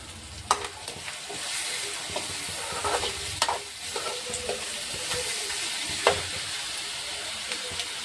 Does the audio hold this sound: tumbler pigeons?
no